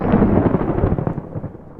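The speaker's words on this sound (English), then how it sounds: "Thunder is rumbling all around" Deep thunder rolls over a campsite during a European summer storm, one long low rumble that swells and then fades, with no one speaking.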